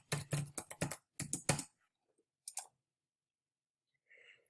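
Bursts of typing on a computer keyboard, close and crisp: two quick runs of keystrokes, then a couple of isolated clicks after a pause, with a faint soft sound near the end.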